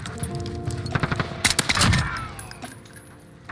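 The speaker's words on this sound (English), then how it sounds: "I was like, who the hell's shooting me?" Video game gunfire from enemies shooting at the player: rapid bursts of sharp shots, loudest around the middle, with scattered cracks and a fading tail.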